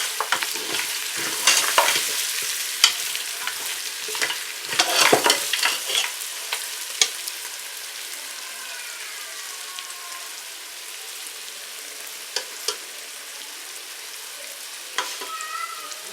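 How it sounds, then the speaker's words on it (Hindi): Onions frying in a pan for mutton paya, a steady close sizzle with bursts of stirring and spoon scrapes early on, settling into quieter crackling with occasional pops. "प्याज भी 1-2 मिनट तक फ्राई करना है"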